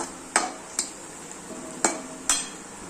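Sautéed onion stirred in a pan, with four crisp spoon-on-metal scrapes and knocks spaced out over a low, steady background hiss.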